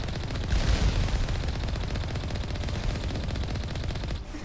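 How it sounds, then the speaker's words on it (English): Rapid gunfire from Mass Effect Legendary Edition rattles on continuously as sustained automatic bursts, loud and dense with no pauses and no talking. "Oh, I'm being shot at."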